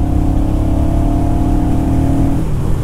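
A Honda Rebel 1100 motorcycle's 1100 cc engine drones steadily while riding, a loud, close, even low hum with a slight pitch shift near the end and no talk.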